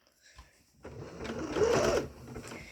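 Sewing machine stitching the hem of stretchy underwear fabric, starting after a quiet moment and running as a steady, moderately loud mechanical whir for about two seconds before easing off.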